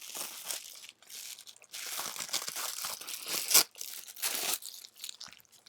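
Over-taped mail package being sliced and pulled open with a handheld package opener, close crinkling, crunching and tearing of tape and packaging in irregular bursts, no talk.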